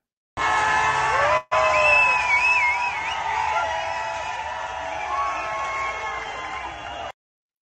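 A huge crowd celebrating a world championship win packs the streets of Delhi near India Gate, with a dense roar of voices, whoops and shouting that is loud throughout and fades slightly toward the end.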